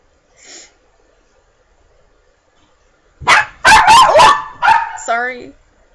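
A dog barks in a quick burst of several loud, close yaps followed by a whine, with a short faint bark or whimper earlier and otherwise near silence.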